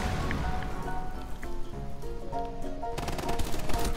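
Rapid gunfire in the tactical shooter Rainbow Six Siege, dense bursts crackling close and loud over game music, intensifying toward the end.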